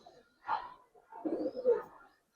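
Giribaz pigeons coo softly in two short bursts, close and clear with no talk over them.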